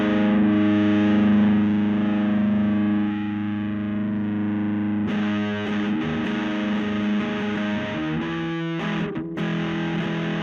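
Electric guitar driven through a Joyo Uzi distortion pedal, loud and dirty with thick sustained chords ringing out, then a few sharper re-struck chords and brief muted chugs toward the end, no voices.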